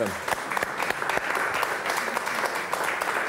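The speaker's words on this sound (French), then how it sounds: "Applaudissements pour Yarno et Philippe." Studio audience applauding on a French TV letters-and-numbers game show, a dense steady burst of clapping lasting a few seconds at full level, with no voices over it.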